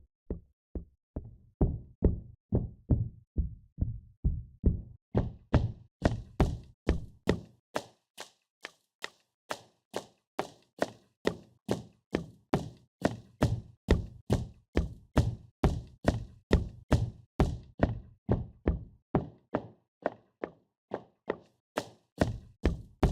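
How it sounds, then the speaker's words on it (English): Synthetic footsteps on hard wood from a footstep sound-effect plugin, a steady walking rhythm of crisp, close knocking steps repeating about twice per second, heard alone. "The one you just heard was hard wood."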